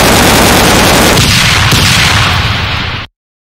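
Dense, loud gunfire from a firing squad in an animated war scene, a continuous crackling volley of rapid shots lasting about three seconds and then cutting off abruptly into silence.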